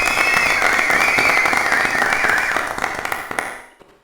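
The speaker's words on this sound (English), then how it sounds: "Round of applause, everybody." A round of applause from an audience: dense, loud, continuous crackling claps filling the space, holding steady for a few seconds before thinning out and stopping.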